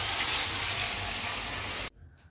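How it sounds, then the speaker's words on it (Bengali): Potatoes frying in a pan in a home kitchen give a steady, loud sizzle that continues for about two seconds and then cuts off abruptly, leaving near silence. "আলুটা ভাজা হয়ে গেছে।"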